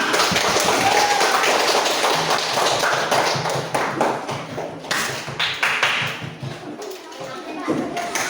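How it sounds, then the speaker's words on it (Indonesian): Classroom group of students clapping for themselves after a lesson, a long stretch of dense, fairly loud, uneven hand claps, with some voices mixed in underneath. "Ya, kita tepuk tangan untuk kita semua"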